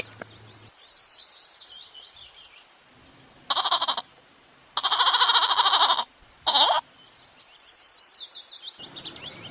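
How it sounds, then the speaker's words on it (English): A goat bleats in three loud bursts, the middle one longest, with chirping birdsong filling the gaps before and after. "G for goat"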